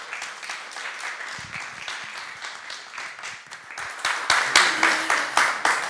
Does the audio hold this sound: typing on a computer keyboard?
no